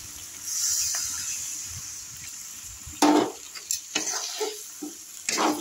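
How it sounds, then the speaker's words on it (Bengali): A little water is poured into a pan of cooking vegetables, potatoes and onion stalks. A brief hiss is followed by sharp sputtering bursts of sizzle at close range, with no speech. "একটু জল দিচ্ছি এর মধ্যে।"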